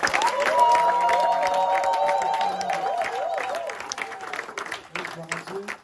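A church congregation at an evangelistic gathering claps and cheers amid sustained voices and singing-like tones, a lively mix of applause, shouts and crowd noise that thins out toward the end.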